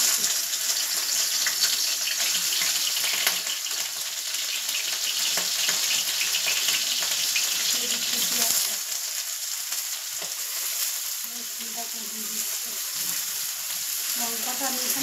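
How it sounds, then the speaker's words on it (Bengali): Chopped prawns, onion and garlic fry in mustard oil with a steady, loud, close sizzle throughout, broken by occasional stirring scrapes and soft clinks. "এখানে আমি কুচি চিংড়ি নিয়েছি, পেঁয়াজ কুচিয়ে নিয়েছি আর নিয়েছি রসুন কুচিয়ে। এটাকে আমি এখন তেলে ছাড়বো।"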